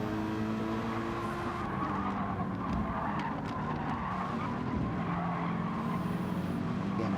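A Gr.3 race car in the Gran Turismo 7 video game revs hard, with a steady, loud engine drone and rising tones, tire squeal and skidding mixed in, close and continuous throughout.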